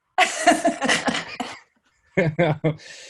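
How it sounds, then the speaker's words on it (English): A person infected with COVID coughs several times in quick, harsh bursts, pauses, then coughs again in a short cluster, close and clear. "We see you coughing right now."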